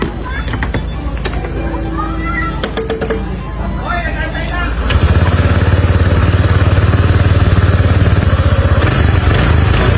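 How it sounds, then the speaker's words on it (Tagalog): A motorcycle engine at a motorcycle repair shop is started and settles into a loud, steady, close idle, with a voice talking over background noise before it catches. "sinali naman natin dito sa motor na to para mapaandar na natin"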